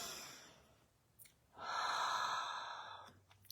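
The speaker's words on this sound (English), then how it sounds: "Let's take a breath right now." A person takes one slow, deep breath, a soft inhale followed by a longer, louder sighing exhale, close to the microphone in a quiet room.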